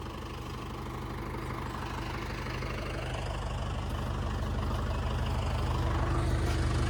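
A tractor engine idles steadily before an off-road trip, a continuous low, throbbing drone that stays close and loud throughout, gradually building slightly in intensity with no speech over it.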